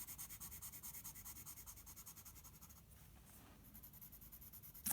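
A pencil shading on paper with steady back-and-forth strokes, a rhythmic scratchy rubbing that continues throughout, close and fairly quiet, with a brief change of stroke direction near the end.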